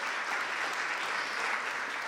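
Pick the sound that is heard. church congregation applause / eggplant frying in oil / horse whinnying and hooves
church congregation applause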